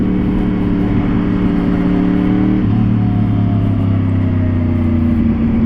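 A 2014 Yamaha R1 facelift sport motorcycle accelerates hard, its engine a loud, steady close-up roar that climbs in pitch through a gear, then drops and builds again.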